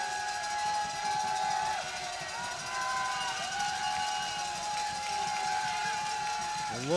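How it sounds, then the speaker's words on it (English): A minor-league baseball crowd at a championship series game makes steady cheering noise in the stands, with a siren-like wail rising over it and a commentator talking throughout. "And now this crowd making some noise for Audie Siriaco."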